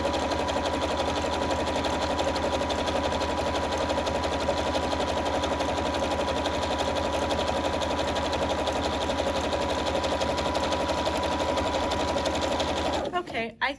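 A bernette 37 sewing machine runs steadily, stitching interfaced fabric in a loud, continuous mechanical whir with rapid needle clatter, then stops abruptly at the end.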